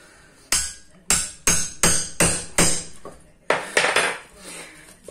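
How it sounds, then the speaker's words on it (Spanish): Repeated hammer blows knocking apart a cut microwave oven, about eight sharp metallic bangs at roughly half-second to one-second intervals, each ringing briefly before the next strike, close and loud with no talking. "por este lado donde hemos cortado vamos a ir dándole martillazos hasta que nos salga por el otro lado"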